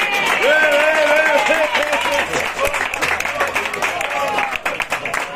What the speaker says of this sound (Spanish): También quiero que le des un aplauso a Tomás Móvil